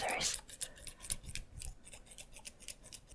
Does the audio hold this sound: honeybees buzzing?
no